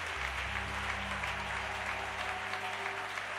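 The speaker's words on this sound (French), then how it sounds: "Acclamons le nom du Seigneur" A congregation at a worship service applauds in a sustained, dense wash of clapping, with a low held musical tone underneath that fades partway through.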